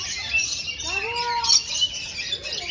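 A caged bird at Guwahati Zoo gives a few short squawking calls, moderately close over quiet background hiss, with one more call near the end.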